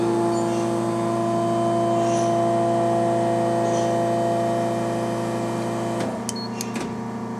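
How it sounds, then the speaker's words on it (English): A Supercast Pro casting machine's vacuum pump drones steadily as it pulls a vacuum, a loud constant mechanical hum with layered tones that shifts near the end as a few sharp clicks sound. "The vacuum is now being pulled."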